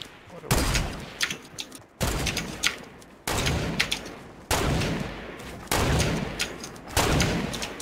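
Gunfire in the video game Fortnite comes in a series of sharp, loud bursts of rapid shots, about six separate volleys at steady intervals with brief gaps between them.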